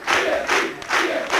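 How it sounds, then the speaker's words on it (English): A crowd of Gibraltar election-night supporters on the night of the GSD's first general election win chants loudly in a rhythmic, repeating cadence, close and continuous with no pauses. "acknowledges the applause and the chanting of GSD by his"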